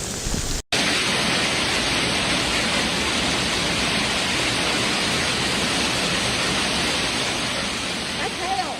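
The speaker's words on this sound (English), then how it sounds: "That's hail." Hail pounds down in a dense, steady roar during a storm in Meridian, Idaho, loud and continuous with a brief dropout near the start.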